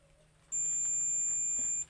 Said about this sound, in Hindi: देखो हमारा बीप बज रहा है।